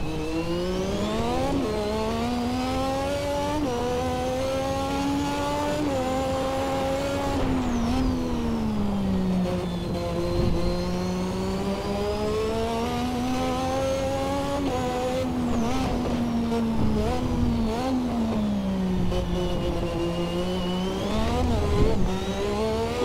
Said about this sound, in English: the car's just breaking traction in third and fourth gear, going uphill with about 5 bar boost behind it